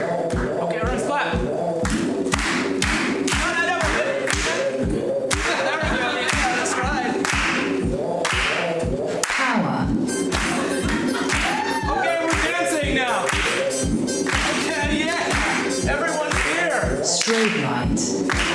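An audience claps in a steady beat along to a loud electronic dance track played by a DJ, with voices shouting and talking over the music.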